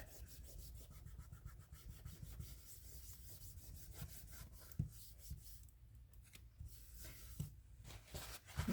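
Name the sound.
rubbing glue off a thrifted item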